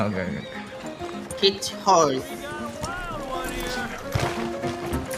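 A horse whinnies clearly amid clip-clopping hooves in the video game Red Dead Redemption 2, with people talking over the sounds throughout.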